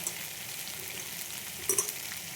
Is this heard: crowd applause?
no